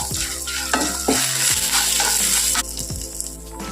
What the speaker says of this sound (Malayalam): നല്ലതുപോലെ റോസ്റ്റ് കൊടുക്കാം